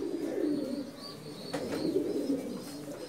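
A red-marked pigeon at a Dhaka pigeon market gives a low, muffled coo that rumbles continuously amid faint background bustle.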